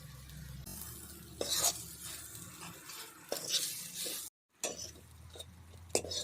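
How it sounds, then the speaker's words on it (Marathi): Green peas stirred in a pan with a spoon: scraping, rattling strokes over a low sizzle, one brief silent gap, and then more stirring. No one speaks. "मटारांचा कच्चेपणा जाण्यासाठी आम्ही आता पाच मिनटं असं ढवळून घेऊया"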